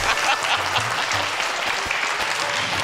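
Audience applause at a comedy show, a dense, steady wash of clapping filling the room throughout, with no talk above it.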